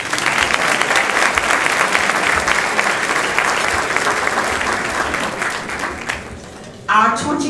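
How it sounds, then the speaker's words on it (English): A benefit-dinner audience at the ERASE Racism 2013 annual event breaks into loud, sustained applause that gradually thins, followed by a voice speaking at the close. "You may now applaud."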